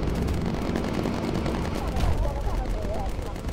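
Bomber gunners fire in the video game Bomber Crew, with steady rattling machine-gun bursts over a low engine drone and a voice talking over the shooting.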